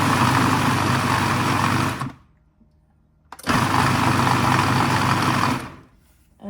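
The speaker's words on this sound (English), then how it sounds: "Now we'll start grinding." A kitchen grinder whirs loudly as it grinds moong dal with cumin seeds, running in two steady bursts of about two seconds each with a short silent pause between them and a third burst starting at the end.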